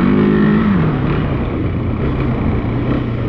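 A KTM 701 enduro motorcycle engine revs loud and close, its pitch swooping up then settling into a steady, throaty drone, with no talk over it.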